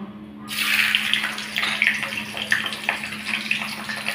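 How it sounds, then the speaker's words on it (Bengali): Fish heads dropped into hot mustard oil, a sudden loud hiss and crackle that starts abruptly and keeps sizzling steadily up close. "এদিকে আমার তেলটা গরম হয়ে গেছে, এবার আমি মাথাগুলো ভেজে নেব।"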